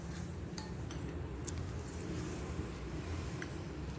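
Vegetables with carrot, salt and green chilli being stirred together in a bowl, producing a continuous gritty rustle with scattered light clinks of a utensil against the dish, with no voices.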